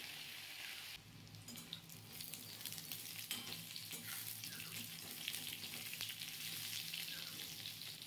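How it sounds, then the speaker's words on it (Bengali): Pieces of pointed gourd (potol) fry in oil with a steady, fairly loud crackling sizzle that runs the whole time, alongside faint scraping sounds from stirring. "পটলগুলো খুব ভালো করে ভেজে নিতে হবে তেলে,"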